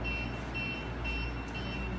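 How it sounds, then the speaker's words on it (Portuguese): The warning horn on a model drawbridge project sounds as a steady electronic tone, pulsing in short repeated beeps over a low background hum, close and moderately loud with no talk. "Aqui a gente tem a buzina, né, que serve para sinalizar quando tiver um barco passando e a ponte estiver levantada"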